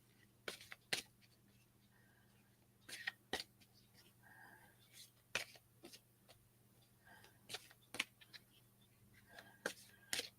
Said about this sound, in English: So I'm going to shuffle what's left of the deck, and then I'm going to just split it.